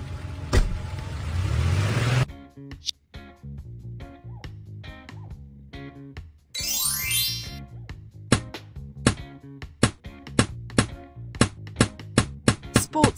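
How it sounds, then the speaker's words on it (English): A taxi's engine and road noise fill the opening two seconds as a loud, steady broadband rush, then cut off and give way to rhythmic music with sharp percussive hits and a rising sweep. "Taxi."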